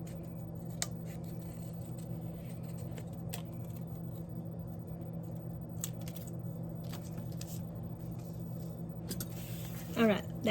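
Paper snipped with scissors while cutting out eye shapes for Dollar Tree fall decor, a few quick light snips scattered over a steady background hum, with a brief louder rustle near the end.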